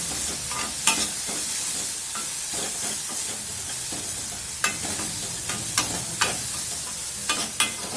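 Chilli powder and spices being stirred in a pan for kadappa, with repeated scraping strokes and clinks of a spoon over a soft, constant sizzle, close and fairly quiet.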